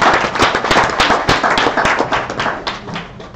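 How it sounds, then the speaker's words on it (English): An audience at a mining industry conference applauds a presenter, dense steady clapping from many hands filling the room, loud and close, with no speech over it. "give them another round of applause, please."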